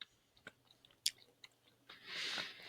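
Boiled peanuts with soft, still slightly crunchy shells being chewed up close, with a few sharp bites followed by a longer, louder burst of wet munching.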